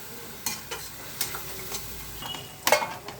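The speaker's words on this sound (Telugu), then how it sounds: "ఆ లోపల అది అడుగంటకుండా బాగా తిప్పండి" Onions frying in a pan for crab curry are stirred, giving a soft sizzle under scattered scraping clicks of a utensil against the pan, with a sharper clatter near the end.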